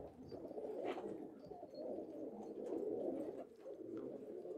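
Pigeons coo steadily in a loft, their low, throaty calls rolling continuously and fairly close, with a faint chirp now and then.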